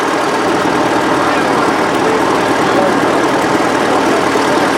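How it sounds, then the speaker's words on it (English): An old International Harvester truck with a Cummins diesel rumbles along a road nearby, a loud, steady engine drone throughout. "we got this coming down the road. It's like an International Harvester,"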